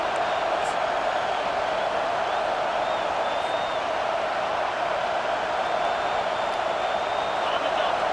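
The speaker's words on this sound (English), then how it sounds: "Here comes this home crowd as the defense tries to get off the field on 3rd down." Home crowd in EA Sports College Football 25 roars steadily as the defense tries to get off the field on third down, a dense, sustained cheer holding at even loudness throughout.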